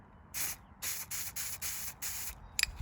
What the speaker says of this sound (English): always your first initial spray with a new can. Spray it out.